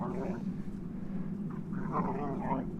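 A dog barks and whines close by, several short bursts with a steady low rumble behind them.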